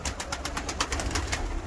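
Pigeons in an aviary coo softly in a repeating rhythmic series of nearby calls over faint background noise.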